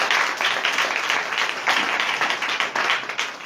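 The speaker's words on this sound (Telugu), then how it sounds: "ఒకసారి చప్పట్లు కొడతారా?" A church congregation claps together during a sermon, a dense run of rhythmic handclaps that fills the whole stretch at fairly close range.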